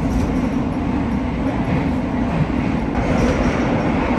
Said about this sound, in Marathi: निघाली आहे जस्ट ट्रेन